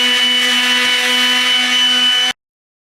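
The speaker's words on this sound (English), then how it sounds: "I am using 100 grit sandpaper." An antique metal ice box is sanded with 100 grit sandpaper, producing a loud, steady, close-up whirring drone that holds evenly and then cuts off abruptly.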